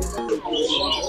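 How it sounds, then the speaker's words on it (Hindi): A sun parakeet calls at a zoo in a brief run of chirpy, moderately loud notes, with other bird sounds and background noise mixed in. "तो आप पक्षी की आवाज सुन सकते हैं,"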